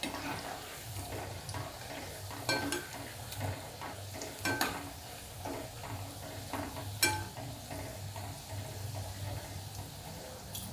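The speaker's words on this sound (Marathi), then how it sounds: "कमी गॅसवर तळून घ्यायचे" Soybean chunks for soyabean chilli fry on a low flame, giving a faint continuous sizzle with occasional scrapes and clinks of a spoon against the pan, close and quiet.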